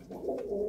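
A red pigeon coos once in a loft where pairs are kept with their chicks, a soft, close, low throaty call held steadily to the end.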